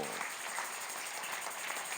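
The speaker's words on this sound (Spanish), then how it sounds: "Le das aplauso al Señor." A church congregation applauds, a steady dense wash of clapping at moderate volume that lasts throughout.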